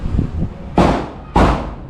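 Firecrackers go off outdoors: two loud, sharp bangs about half a second apart, each trailing off in a brief echo over low wind rumble.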